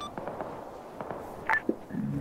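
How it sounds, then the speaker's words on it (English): Distant gunfire in the Arma military game, a few scattered muffled pops and one sharper report against a low ambient background, with no talking. "What's that firing at us from the east?"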